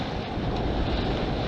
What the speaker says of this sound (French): le vent d'ouest est bien monté